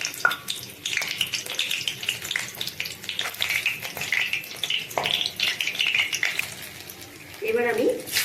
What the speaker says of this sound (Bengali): এবার আমি দুটো কাঁচা লঙ্কা ও তেজপাতা ফোড়ন দিলাম